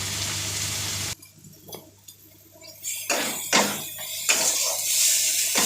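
Spice masala with chopped tomato, chilli powder and turmeric fries in a pan for cabbage dhoka dalna, a sizzle that cuts off and returns with scraping stirs and clinks, close and moderately loud.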